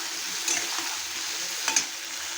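Spice paste with turmeric sizzles steadily in a hot pan after a splash of water for an egg and pointed gourd curry, a loud close frying hiss with a couple of brief sharper spits, no talking.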